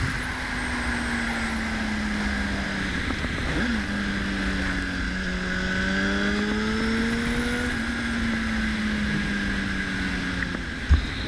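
A Honda CBR1000rr engine drones steadily while riding, its pitch rising and falling gently with throttle changes under constant wind rush, sustained and close.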